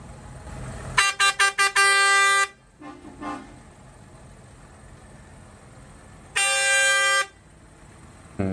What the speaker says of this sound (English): It's got an air horn on. This was really loud,